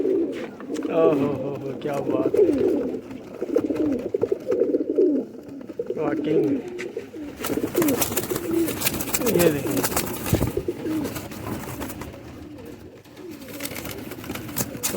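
Pigeons kept for sale coo softly nearby in low, repeated throaty calls while someone talks over them throughout.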